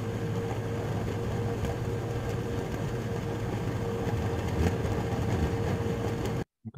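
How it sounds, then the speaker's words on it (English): Constant low mechanical drone of deep-sea mining machinery, with a steady hum and broadband rumble, unchanging throughout, then cutting off abruptly near the end. "This is the sound of the machinery that is being used to mine the deep sea."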